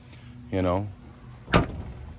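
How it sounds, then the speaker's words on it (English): A single solid door of a 1991 F250 pickup with a plow slams shut, a sharp broadband thud midway through, after a short burst of voice. "as you hear that door slam, solid"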